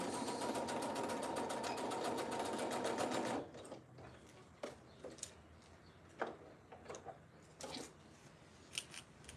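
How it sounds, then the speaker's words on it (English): Sewing machine stitching a seam on a dress, a loud steady run for about three seconds before stopping, followed by quieter scattered clicks and handling of fabric. "this last little part I have to sew as well"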